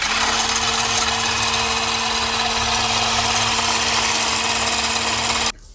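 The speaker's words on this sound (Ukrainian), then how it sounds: "І починаємо вбивати." An electric hand mixer whips 30% fat cream for a no-bake crepe cake, giving a loud, steady motor whine that runs unbroken for about five and a half seconds and then cuts off.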